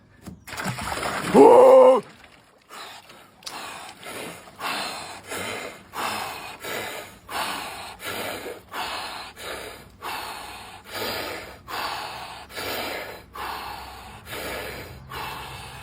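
A loud gasp on entering an ice bath cold plunge, then a long run of rapid, rhythmic breaths, each a sharp inhale and exhale, repeated evenly and close by.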